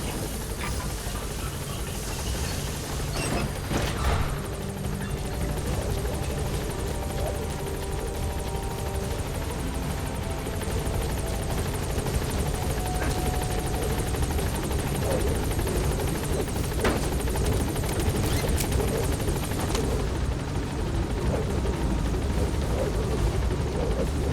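A helicopter in Metal Gear Solid V: The Phantom Pain thumps steadily with rotor chop and engine drone, loud and constant throughout, hovering at a landing zone before climbing.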